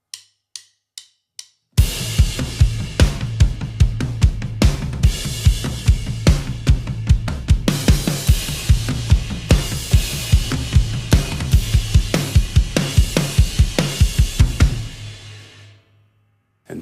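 A drum kit plays the back section of a worship song's chorus, opening with a few sparse count-in clicks, then a loud driving beat of repeated hits and crashes before ringing out to a fade.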